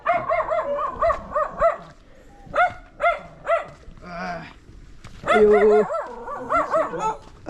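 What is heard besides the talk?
dogs barking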